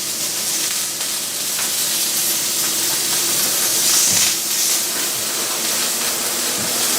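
Octopus coated in olive oil sizzles in a grilling pan under a weight, a steady close hiss of frying with no talk.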